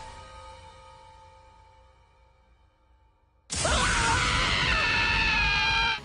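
Japanese anime characters screaming in over-the-top voices, bursting in suddenly and loudly midway after a quieter tonal stretch, then holding a sustained, intense shriek to the end.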